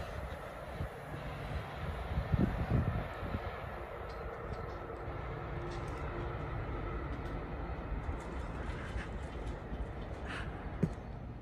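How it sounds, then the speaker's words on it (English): A Great Western Railway train arriving at Kintbury station, a low steady rumble of wheels and engine with a few brief clanks, moderately distant and fairly quiet throughout. "Arriving now is the 1419 Great Western Railway service from Newbury to Bedwin."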